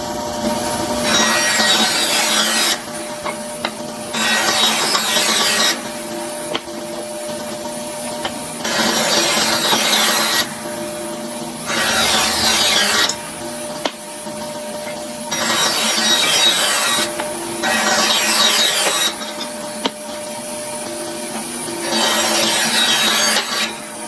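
A saw cuts through pieces of a wooden end-grain cutting board made with cherry, giving loud, rhythmic back-and-forth rasping strokes in regular bursts, close up and without talk.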